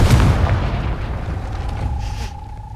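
A spell blast from the Hogwarts Legacy video game booms out loud and close, a deep explosive burst that rumbles and slowly fades over a couple of seconds.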